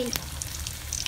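Food frying in hot oil at home, banana chips and spring rolls for the Lunar New Year, crackles in a steady soft sizzle with scattered light pops, close by and alone.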